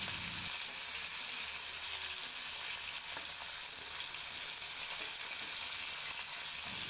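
Salt-and-turmeric-coated tilapia frying in hot oil in a wok and being turned over, heard as a constant close bubbling sizzle with soft scrapes of the spatula, no voices.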